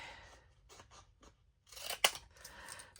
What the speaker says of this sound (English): Those scissors actually really cut good.